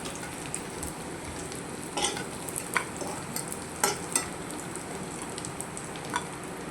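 Dried bombil fish sautéing in oil in a pan, a soft, even sizzle with a few sharper pops and stirring scrapes scattered through it, fairly quiet.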